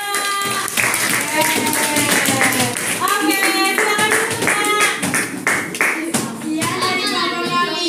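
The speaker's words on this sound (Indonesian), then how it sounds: "Tepuk tangan untuk kelompok 2." Schoolchildren in an Indonesian classroom clap for a presenting group, producing a brisk, irregular patter of claps mixed with children's excited voices, while a teacher speaks briefly over the noise.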